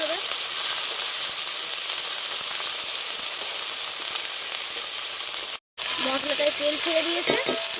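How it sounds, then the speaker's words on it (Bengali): Ground spice paste fries in hot oil in a pan for shukto and cabbage with peas, giving a loud, constant close sizzle and hiss, broken by a brief cut, then scraping stirs and a faint voice beneath the frying. "তেলের ওপরে এবার বাটা মশলাটা দিয়ে দেবো"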